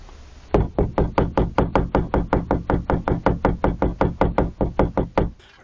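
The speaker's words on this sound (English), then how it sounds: "Remember folks, knocking is just knocking." Steady, rapid knocking on the side of a camper van, about two dozen evenly spaced loud raps over several seconds, close and sharp with no talking.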